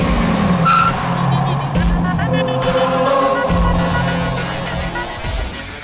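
Car being driven, a steady engine drone and road rumble sustained throughout, loud and close, with shifting tonal whine and a few brief knocks, under a dramatic film soundtrack.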